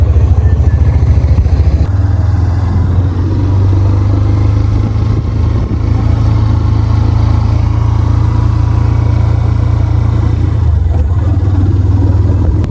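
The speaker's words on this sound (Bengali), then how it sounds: "ক্যাম্পাসে বাইক চালাইতেছি এই যে বন্ধু একটু প্র্যাকটিস করতেছে নতুন বাইক" A new motorbike rides around a university campus at night, its engine a loud, close, steady putter with a low chugging hum throughout and a brief shift early on, while people talk over it.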